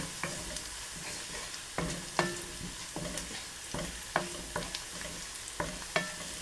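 Greens cooking in a pan with a little mustard oil added, sizzling steadily while a utensil scrapes and taps the pan in a regular stirring rhythm, close and fairly quiet, with no voices.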